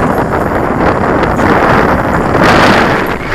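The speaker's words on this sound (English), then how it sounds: "It's a bit windy." Strong wind buffeting the microphone outdoors near water and a waterfall, a steady loud roar that swells toward the end, with no speech.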